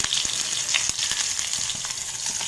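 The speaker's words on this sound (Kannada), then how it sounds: "ಈರುಳ್ಳಿ ಹಾಕಿ ನಂತರ ಮೆಣಸಿನ್ಕಾಯಿ ಎಲ್ಲ ಹಾಕಿ ಮಿಕ್ಸ್ ಮಾಡೋಣ" Sliced onion and green chilies fry in a hot pan for a radish chutney, making a brisk, dense sizzle close by with quick scraping stirs.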